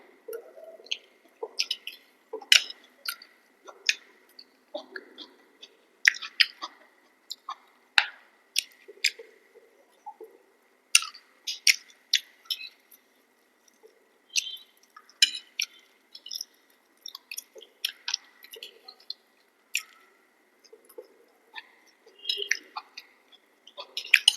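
Close, intermittent wet chewing and smacking of homemade chilli chicken and chow mein, with soft irregular clicks and squishes separated by brief pauses; no speech.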